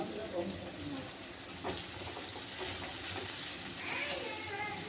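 Onions sautéing with salt in a pan for an appalam kuzhambu, giving a low, continuous sizzle with scattered crackles and a brief clatter, while a voice talks quietly over it.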